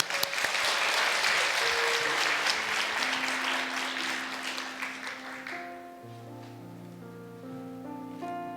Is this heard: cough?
no